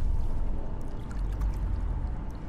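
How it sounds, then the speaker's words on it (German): Water pours from a water-cooled generator in the video game GYLT as a steady, rushing splash with a low rumble underneath, continuous and fairly close. "Oh, Wasser. Ist eine Wasserkühlung?"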